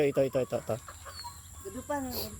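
Several lame roosters cluck in quick, repeated bursts close by, followed by a few softer clucks and a brief squawk, with no talking.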